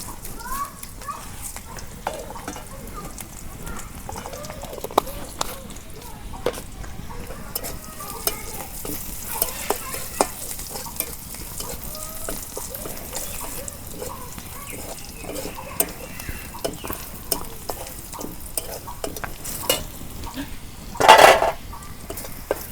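Cumin seeds sizzle and crackle in hot oil in a pan while cooking Gorai fish curry with potol, a steady soft frying hiss with occasional clinks of a utensil stirring.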